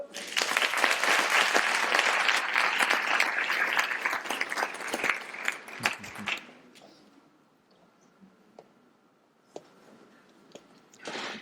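An audience at a magic and psychology-of-illusion session claps for a volunteer, dense steady applause for about six seconds before it thins into scattered claps and a quiet room.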